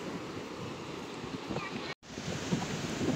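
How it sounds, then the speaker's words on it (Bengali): Sea waves roll at Cox's Bazar beach, a steady broadband wash of surf mixed with wind buffeting the microphone, loud and continuous apart from a brief dropout midway. "এখন সমুদ্রের পুরো ভিতরে আছি।"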